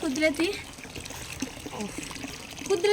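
Natural hot spring water flows and trickles steadily at a Sheshnag shrine in Kinnaur, a soft, continuous watery wash under a person talking.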